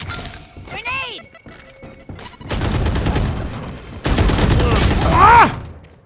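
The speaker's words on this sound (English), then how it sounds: "Grenade!" Gunfire and a grenade blast in a video game, heard as bursts of crackling shots and a dense, loud rumble that builds toward the end, mixed with a player shouting over the action.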